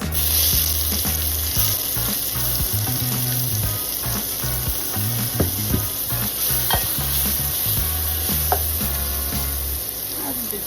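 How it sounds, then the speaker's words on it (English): Onions fry in oil with a loud continuous sizzle, while a utensil stirs and scrapes the pan in irregular knocks, close up and under background music. "we're gonna start really frying"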